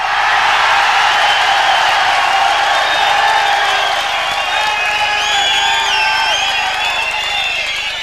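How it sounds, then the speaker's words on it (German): A live radio show audience in Helmstedt bursts into loud, sustained applause and cheering, dense clapping mixed with whoops and whistles, swelling and holding for several seconds. "Und nun der Applaus für den Ralf aus Eisdorf."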